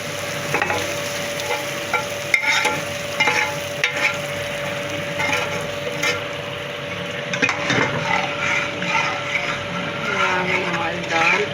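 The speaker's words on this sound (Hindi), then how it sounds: "और ये तड़का उठा के ना इसमें दाल में डाल देंगे।" Hot tadka tempering poured into a pot of dal in a home kitchen, giving a steady sizzle and stirring sounds with faint background hum throughout.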